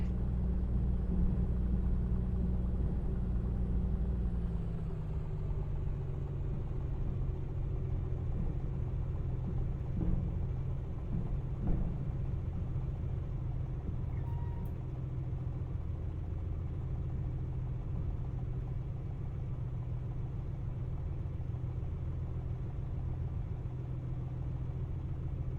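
Piper Comanche light aircraft engine taxiing to parking after landing at Granby, a steady low rumbling drone heard from inside the cabin that drops slightly in pitch early on, then holds constant with faint clicks, no talking.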